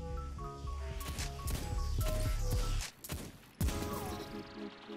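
Hand cannon shots fired in Destiny 2, a rapid run of sharp gunshot cracks over busy game music and effects, followed by a brief lull and a couple more loud hits.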